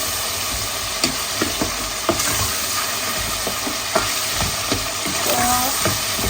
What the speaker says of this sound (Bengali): এখানে পেঁয়াজ আদা রসুন সব কিছু একটু কষানো হয়ে গেছে